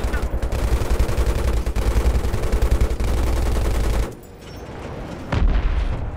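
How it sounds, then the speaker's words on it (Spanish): Sustained bursts of machine gun fire in the video game Battlefield 3, rapid and loud and nearly continuous, with a brief lull before the shooting picks up again; a voice can be heard faintly underneath. "Hostia, me gusta esta ametralladora."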